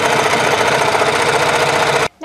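Sewing machine stitching a fabric collar piece, a steady loud mechanical whirr running continuously for about two seconds before stopping abruptly.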